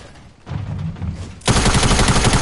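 Video game gunfire: a short burst at first, then loud rapid automatic fire that continues steadily to the end.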